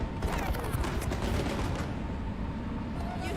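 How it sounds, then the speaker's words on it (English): A city-centre fireworks display with music bursts in dense, continuous crackling volleys of rapid pops and booms, loud and close throughout, with crowd sound faintly mixed in. "the heart of the city was illuminated by a stunning display of fireworks and music"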